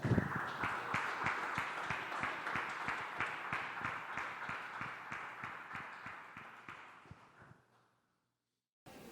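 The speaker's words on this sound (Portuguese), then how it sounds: "Dá uma salva de palmas para Jesus, vai." At a religious gathering, an audience claps together in a steady, even rhythm, loud at first and then fading until it stops.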